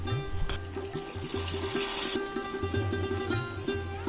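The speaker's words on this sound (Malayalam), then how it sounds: "ഇനി നമുക്കിത് പായസത്തിലേക്ക് ഒഴിച്ചു കൊടുക്കാം." Fried coconut pieces, cashews and raisins are poured into a pot of papaya payasam, giving a close, bright hissing splash that swells in the middle and settles over a low stirring rumble.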